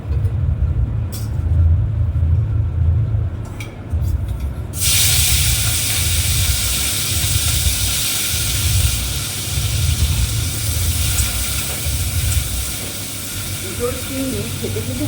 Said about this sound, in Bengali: কড়াইতে তেল দিয়েছি পুড়ে যাচ্ছে এখানে দেখো চিংড়ি মাছটা ভেজে নেবো